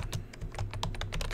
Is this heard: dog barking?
no